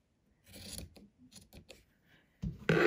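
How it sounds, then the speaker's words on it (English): Scissors cut a quarter-inch seam through fabric on a cable-tie reinforced face mask, heard as a few close, rasping snips in short bursts with pauses between them and a louder final cut. "all I'm going to do is cut like a quarter inch seam up from the seam"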